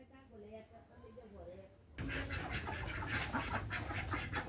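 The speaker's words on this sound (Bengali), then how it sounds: "কতগুলো হাঁস দেখা যাচ্ছে এখানে।" Ducks quack in short overlapping calls on a farm, faint at first, then louder and closer behind a surge of rough outdoor noise.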